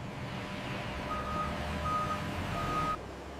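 A truck's reversing alarm beeps three times in slow, even intervals over a steady engine idle and yard hum at a noodle warehouse loading area, and then cuts out near the end.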